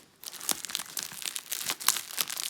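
Crinkling plastic packaging from an AliExpress parcel of diamond painting supplies being handled and cut open with scissors, with repeated close crunches and tearing rustles in irregular bursts.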